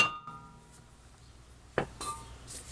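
A mini sledgehammer strikes a seized brake rotor on a 2013 Hyundai Accent front hub, giving one sharp metallic clank in an otherwise quiet garage, followed by faint clinks.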